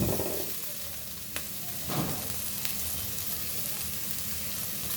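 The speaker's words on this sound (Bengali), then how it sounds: "ডাল আর সবজি একটু ভেজে নিলাম" Dal and vegetables fry in a pan with a steady, dense sizzle, a couple of brief stirring scrapes near the start, then an even hiss to the end.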